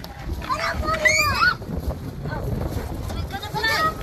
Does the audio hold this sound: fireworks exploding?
no